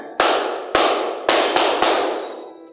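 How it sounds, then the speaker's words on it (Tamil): Close, crisp hand claps land five times in an uneven rhythmic pattern, demonstrated for a primary school class, each with a short decay in an otherwise quiet room. "இப்போ இந்த கை தட்டுறதுலயே ஒரு ராகமா கை தட்டலாம்"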